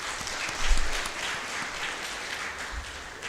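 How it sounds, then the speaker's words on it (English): Sustained applause from a workshop audience marking the end of an East African program on economic opportunities for women, a steady dense patter of many hands clapping at moderate distance with a few low thumps, no voices over it. "just give them really a good round of applause"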